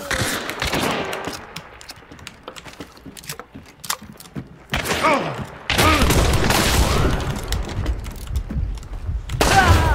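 Gunfire in the video game Hunt: Showdown, rapid sharp shots and booming blasts in irregular bursts, loud and close, with a player talking excitedly over the shooting.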